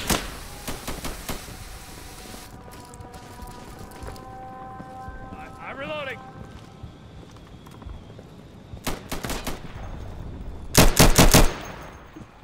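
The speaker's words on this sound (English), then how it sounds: "I'm taking fire." Bursts of gunfire in the video game Insurgency on a checkpoint map, rapid rattling volleys at the start and a loud close burst near the end, with scattered shots and a brief whistling sound between.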